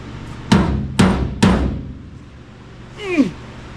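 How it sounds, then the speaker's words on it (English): Three loud, evenly spaced metal hammer blows ring out close by on a GMC truck, then a short squeaky sliding sound follows after a pause. "Bunch of hammering required."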